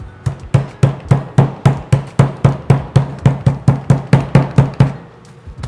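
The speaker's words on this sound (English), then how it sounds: "boneless, skinless cutlets that you're gonna pound out" A mallet pounds boneless skinless turkey cutlets flat in a steady run of about eighteen evenly spaced thuds, close and loud, with no talking.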